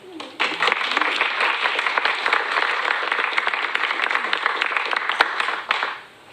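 Participants in a climate university stream session applaud together, a full burst of clapping that starts abruptly, holds steady and fairly loud for several seconds, then fades out near the end.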